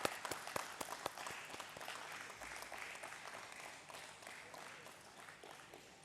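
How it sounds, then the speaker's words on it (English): Audience clapping at a stock exchange listing ceremony for NURECA Ltd, starting with a few sharp distinct claps and settling into steady, moderately loud applause that fades slightly. "Keep the claps on, keep the positivity going."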